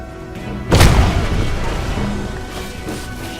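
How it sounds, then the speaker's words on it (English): A grenade blast in the Crysis video game: one sudden loud boom with a heavy low-end impact, trailing into a long rumbling decay that fades slowly over the next few seconds. "That was a worthwhile grenade."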